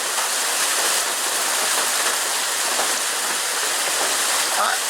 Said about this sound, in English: It's pouring out here tonight.